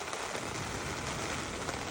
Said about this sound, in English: So I'll lay here until this rain stops and then I'll pack up.